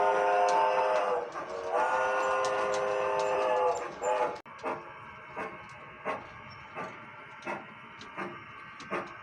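A G scale model train rolls over a trestle on a descending grade, a steady rumbling hum for about four seconds, then quieter rhythmic clicks of wheels over rail joints at a regular pace.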